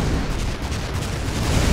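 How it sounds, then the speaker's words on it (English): Carpet fire weapon explosions in the artillery game ShellShock Live rumble as a dense, continuous barrage of deep booms, loud and close, with no clear gaps between blasts. "Oh, the carpet fire!"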